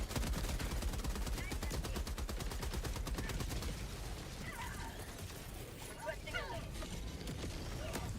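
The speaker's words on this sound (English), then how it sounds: "That's a grenade." Chaotic combat in the game Helldivers 2, with rapid, steady bursts of gunfire hammering throughout, some crackling blasts, and a grenade-like burst in the later seconds, all fairly quiet and heard under talk.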